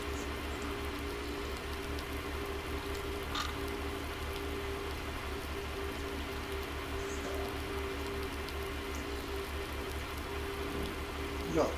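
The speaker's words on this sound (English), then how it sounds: "Not raining quite as hard now as it was at 6 o'clock this morning" Steady rain falls outdoors on a farm, a continuous soft patter at low level with no voices, holding evenly throughout.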